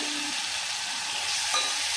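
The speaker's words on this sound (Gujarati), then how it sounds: "હલાવો હલાવી નાખું" Grated tomatoes, asafoetida and turmeric are stirred in a hot pan for khichdi, giving a close, steady sizzle with a soft scraping of the stirring throughout.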